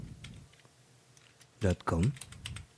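Keyboard keys clack in a quick burst while a command is typed on a computer, with a person speaking over and between the keystrokes at close range.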